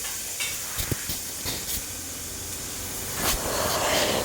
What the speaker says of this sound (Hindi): यहाँ पे मिर्च जल चुका है तो अब टमाटर डालूँगी।